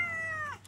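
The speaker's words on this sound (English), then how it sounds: "There is no cats allowed in there." A single drawn-out cat meow in a backyard, clear and close, with a tonal cry that falls at the end before quiet.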